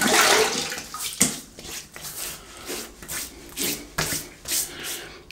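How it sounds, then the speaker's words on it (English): Water splashes as hands wet a face before a shave, a series of close, uneven wet slaps and rubs repeating in a loose rhythm. "let's wet the face."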